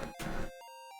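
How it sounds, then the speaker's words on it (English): Chiptune music from the Robocop 3 video game: a dense, noisy burst of synthesized sound followed by a few bright sustained square-wave tones played alone, loud and close. "Apparently there's a Robocop 3 game, and it sounds like this."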